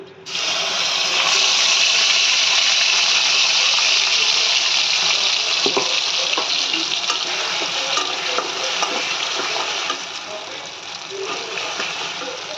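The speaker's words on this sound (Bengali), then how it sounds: "এই তেলের মধ্যে দিয়ে দেবো আমি বাটা মশলাটা।" Ground spice paste hitting hot oil and frying in a pan, a loud, dense, steady sizzle with occasional stirring scrapes, continuing without a break throughout.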